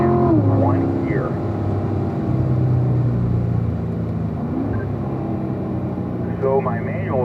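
A car engine drones steadily on a race track with low rumbling and shifting engine tones, while someone talks over it almost throughout.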